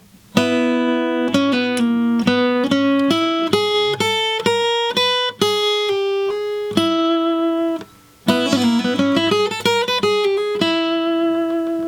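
A single guitar plays a country-jazz lick at a slow pace, with clear sustained notes, a brief pause, and then a second phrase ending on a held note.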